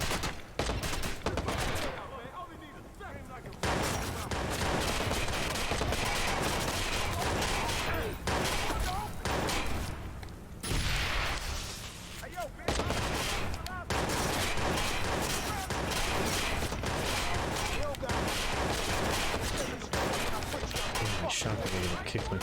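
MP5 submachine gun fire in the video game Fallout 76: loud, dense bursts of rapid automatic shots that keep coming over about twenty seconds with brief gaps, while a voice talks over parts of it.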